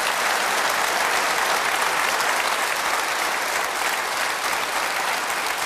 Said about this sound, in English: We're getting a lot of applause for that.